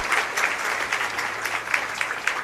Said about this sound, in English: Please give a huge round of applause for our chief guest